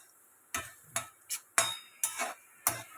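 Urad dal roasting in a pan, stirred with a metal spoon in about six separate scraping, clinking strokes with short pauses between them, close and fairly quiet, with no talk.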